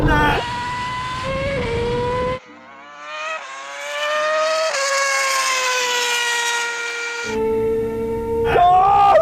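A small motor whines at high pitch, rising and falling as an Arrma Limitless 120 8S RTR RC car speeds past, with shifting engine tones throughout.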